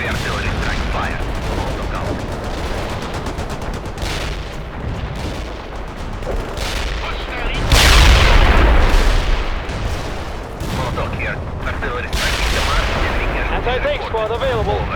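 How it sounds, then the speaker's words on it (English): Heavy artillery strike in the World in Conflict game: loud, booming barrage with a sharp blast near the middle, rumbling over continuous gunfire and battle noise, with radio-style voices talking underneath. "Heavy artillery strike fire."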